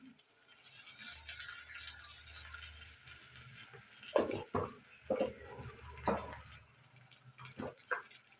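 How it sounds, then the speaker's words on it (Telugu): Tomato pieces and dal sizzle steadily in a pan while a spoon scrapes and clatters against it in short irregular stirs, close and fairly quiet, without speech. "కలుపుకొని టమాటా ఒక నిమిషం పాటు ఫ్రై చేసుకోండి"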